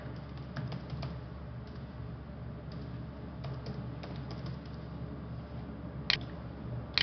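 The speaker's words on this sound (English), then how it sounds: "And I'm just clicking enter again." Computer keyboard keys pressed while working in mind-mapping software, a few faint, scattered clicks over a steady low hum, with a slightly sharper pair of taps near the end.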